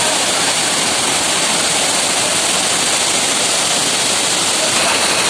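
A loud, steady roar of the Vaithalkundu waterfall at Kappimala in Kannur district, Kerala, the district's largest waterfall; constant rushing water with no pauses from start to finish.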